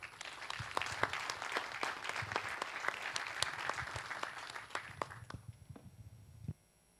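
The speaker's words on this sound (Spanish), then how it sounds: "Un aplauso, por favor" Audience applause at a naval industry conference, a moderate spread of individual claps that thins out toward the end and stops abruptly.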